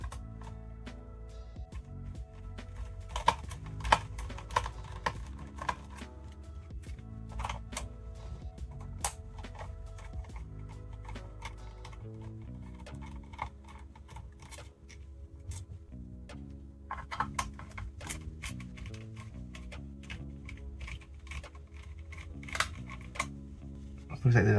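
Small screws being worked out of the bottom of an old DV camcorder, heard as close, light metallic clicks and ticks scattered through the clip under low-level background noise.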